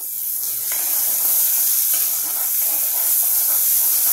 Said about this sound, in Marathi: आता हा कांदा टोमॅटो घालून आपण थोडंसं त्याला परतणार आहोत